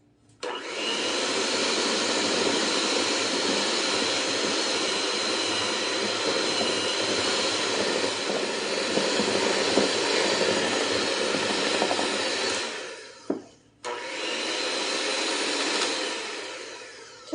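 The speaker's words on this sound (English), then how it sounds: "this beater does not have a low to low speed" Electric hand mixer with no low speed beating cream cheese for an earthquake cake, a loud steady whirring drone that runs unbroken, stops briefly near the end, then starts again.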